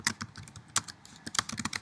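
Quick, close keystrokes on a computer keyboard in an irregular typing burst, with brief pauses and a few louder taps, no voices.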